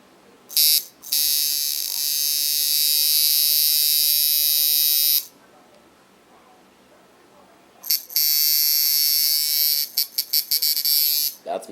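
Tattoo machine buzzing in a steady, loud, close drone for several seconds, stopping, then returning in a longer run that breaks into short rapid bursts; no talk over it.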